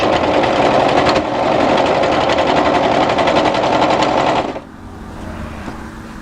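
An overlocker runs a continuous fast, buzzing stitch along a seam of a knit winter tee dress, close and loud, with one brief dip before it stops and leaves a quieter hum.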